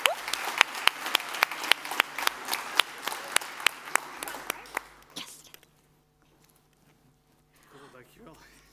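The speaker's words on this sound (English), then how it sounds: "let's give them a very huge, massive applause" Audience applause at a Dutch Umbraco tech event, loud with sharp individual claps standing out, fading away after about five seconds into near silence, then faint voices in the room.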